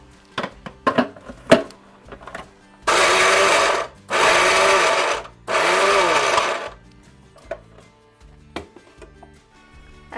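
A mixer grinder grinds sweet corn in three loud bursts of about a second and a half each, separated by short pauses, with softer clicks and knocks before and after.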